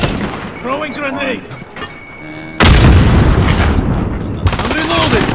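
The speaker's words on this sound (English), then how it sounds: "Throwing grenade!" A grenade blast in the Call of Duty Modern Warfare video game, a sudden loud broadband boom that hits mid-clip and rumbles on amid gunfire, with a shouting voice before and after.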